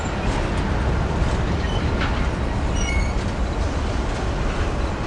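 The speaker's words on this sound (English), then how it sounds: "I think this is a Q train." A Q freight train carrying torch stackers and JB Hunt containers rolls steadily past at Commerce, a dense continuous rumble with faint wheel squeal and clatter, close and loud without pause.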